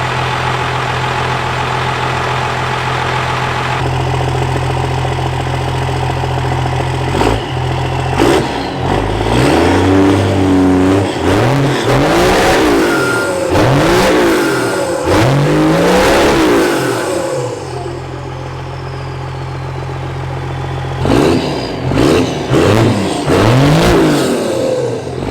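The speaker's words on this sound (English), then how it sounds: "we're gonna let it idle for a little bit before I get on it and see how this thing sounds." A Cummins diesel truck fitted with a huge ship-horn exhaust idles with a deep droning tone, then revs repeatedly in rising, blaring pulls, loud and close, settling back to idle before a few final blips.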